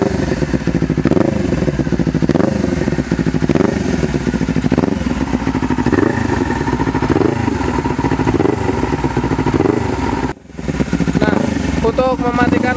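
A Honda CBR 250RR engine running in a quickshifter auto warm-up mode, with a loud, close, rhythmic rise and fall of revs that repeats for about ten seconds, a brief cut near the end, then revving again.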